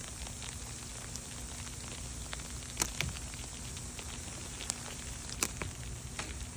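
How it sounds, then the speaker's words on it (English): Ice pellets fall steadily during an ice storm, making a dense, even hiss of tiny ticks with a few louder clicks where pellets strike nearby. "It's like little hail."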